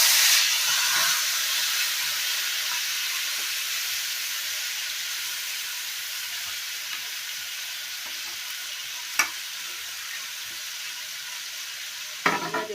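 Magur catfish pieces frying in hot oil with fennel seeds and dried red chilli, a steady close sizzle and hiss throughout with faint stirring, and a couple of brief knocks near the end.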